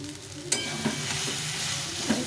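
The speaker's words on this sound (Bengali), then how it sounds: "একটু ভালো করে কষিয়ে নিতে হবে" Mashed taro leaves are stirred in a pan over a steady close sizzle, with a few scraping strokes of a spatula against the metal and no voices.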